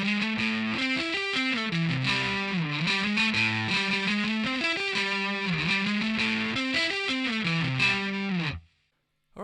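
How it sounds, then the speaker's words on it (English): Distorted electric guitar plays the main riff of a song: a loud, sustained, chugging single-note line with bends. It runs alone for about eight and a half seconds, then cuts to silence. "we'll start with the main riff, which is also the chorus, and that sounds like this"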